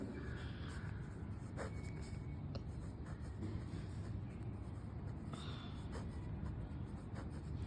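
Pen scratching on paper while working a math problem in a lesson, faint and intermittent under a steady background hiss, with no talking.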